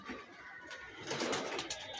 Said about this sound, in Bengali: এই যে কবুতরগুলো উঠতেছে